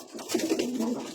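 Pigeons coo softly, a brief low rolling call, close by and with no talking over it.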